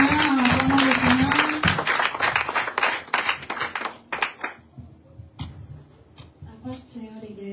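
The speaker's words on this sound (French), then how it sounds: "Acclamons le Seigneur, acclamons le Seigneur." A church congregation claps and cheers loudly in a dense burst of applause with a sustained voice over it, then the clapping thins into scattered claps and quieter voices.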